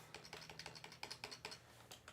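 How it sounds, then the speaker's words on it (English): Fingers type a quick burst on a computer keyboard, a string of close, crisp key clicks in an uneven rhythm with a brief pause near the end, no talking. "Let me just type in"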